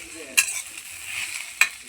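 Morola fish sizzling as it crisps in a frying pan, with a steady hiss broken by two sharp clinks of a utensil against the pan.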